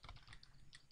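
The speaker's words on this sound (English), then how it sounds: "And I'm going to type insert last name," Rapid typing on a computer keyboard, a quick run of light, close key clicks at an uneven rhythm, faint and alone with no voices.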